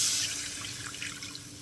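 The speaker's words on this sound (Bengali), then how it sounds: "এইবার আমি জল দিয়ে দেবো।" Water is poured into a potato and spice curry base for katla fish kalia, a steady, soft splashing stream heard up close for under two seconds.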